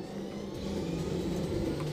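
A helicopter engine spools up in a Minecraft mod, a steady mid-pitched whir and rumble that holds even and loud throughout, with no talk.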